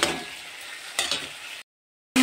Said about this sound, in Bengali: মশলাটার সঙ্গে পেঁয়াজ আলু কাঁচা লঙ্কা সব ভালো করে মিশিয়ে নেব।